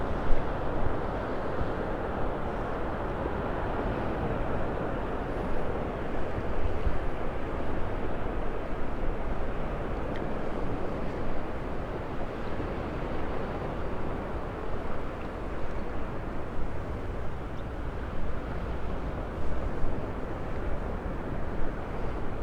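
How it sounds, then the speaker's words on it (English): Steady broadband roar of ocean waves breaking over a sandbar off a beach in North Naples, Florida, a continuous wash of surf heard from a distance with some wind, no one speaking. "The waves breaking over the sandbar out there."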